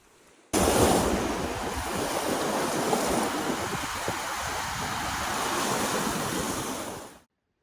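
Surf rolls steadily onto Cavendish beach on Prince Edward Island, a continuous broad wash of breaking waves with wind buffeting the microphone, starting abruptly and cutting off near the end.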